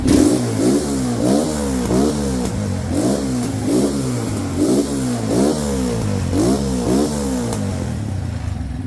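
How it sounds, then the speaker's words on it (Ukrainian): A Geon Terrax 250 motorcycle engine is revved repeatedly in a steady rhythm, each burst rising and falling, loud and close. "Газуємо."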